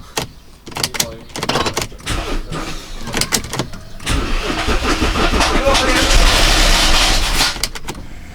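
An Audi A8 D3 engine is cranked and fires up, with repeated starter bursts settling into a steady rumbling idle and a rustling noise from the engine, recorded up close with no one talking.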